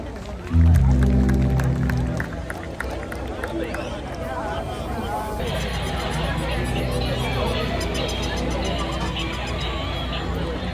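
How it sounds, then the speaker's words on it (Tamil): A crowd at a Tamil community event in Canada claps and cheers as two singers take the stage. Loud music briefly opens, then the steady, dense applause carries on to the end. "இவர்கள் இருவருக்குமே அங்கே உங்கள் பலத்த கரகோஷங்கள்"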